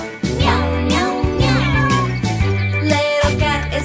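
A cartoon cat meows in short, bright, stylized cries over a loud children's song with sung melody and musical backing throughout.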